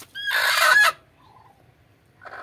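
A hen gives a loud, harsh, drawn-out squawking cluck at close range while trying to lay eggs, with a duck nearby. Softer, quieter calls follow and a brief clucking burst comes at the end.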